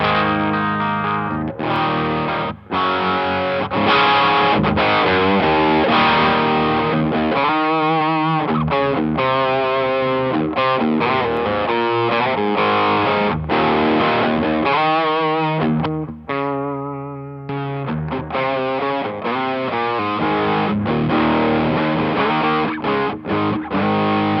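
Distorted electric guitar chords and riffs crunch through an amp, loud and continuous, with short pauses between strummed phrases and no voices.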